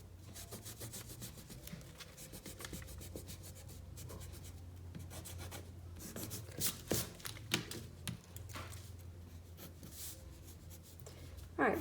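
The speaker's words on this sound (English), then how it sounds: "I'm going to erase out the interior lines that I don't need" An eraser rubs back and forth across pencil lines on paper, close and quiet, in uneven bursts of scratchy strokes that grow brisker toward the end.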